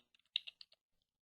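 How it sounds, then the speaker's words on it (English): A computer keyboard being typed on while entering a terminal command, a short run of about eight light, close key clicks with uneven spacing, then quiet. "let's type in cat space, and we'll just enter the name of the file"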